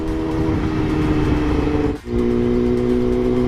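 A Yamaha YZF-R6 motorcycle with a newly fitted exhaust runs loud and close, holding a steady high-pitched engine drone that briefly dips, as if on a gear change, then continues at a similar pitch.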